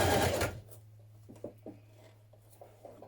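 A sewing machine stitches bias tape around the armholes of a fitted dress, a short loud burst at first followed by faint, sparse clicks and taps over a low steady hum.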